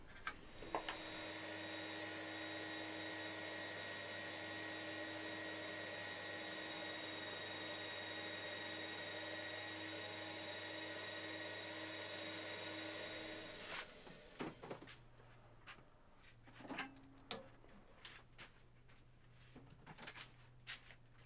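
Dust extraction machinery drones steadily with a tonal hum for about fourteen seconds while a fossil bowl is worked, then shuts off, leaving quiet workshop clatter and soft knocks.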